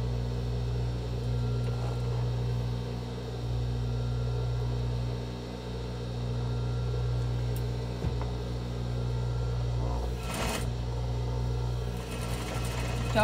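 Sewing machine running steadily while stitching a fabric box-style face mask, a continuous close motor hum with fast even needle rhythm throughout, no talking.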